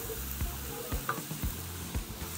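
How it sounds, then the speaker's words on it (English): Beaten eggs frying in hot oil in a pan for fried rice make a soft continuous sizzle, with a few regular thumps and scrapes as the eggs are moved around, no voices present. "Pour my eggs in. And then just kind of let that egg set, sort of move it around a little bit."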